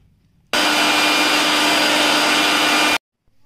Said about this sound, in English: we put all these pieces in a grinder like this. And we will grind these onion pieces.